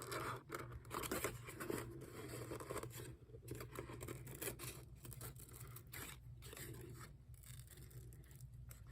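Scissors cut through fabric for a small handmade doll. The cuts come as repeated close snips and crisp rustles at an uneven pace, with no talking.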